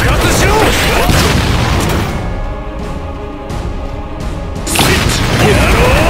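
Killer Queen's bomb explodes in a JoJo crossover fighting game, a loud crashing boom with a long rumbling tail, quieter for a moment, then another heavy blast near the end.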